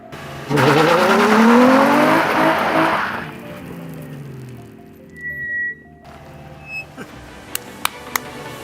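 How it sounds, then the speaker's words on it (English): Nissan 350Z burnout: a loud revving engine with sustained tire squeal for about three seconds, fading into lower engine rumble, then quieter clicks and knocks. "Will it do a burnout?"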